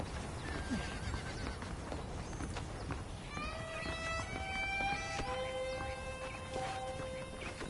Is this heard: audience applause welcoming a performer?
no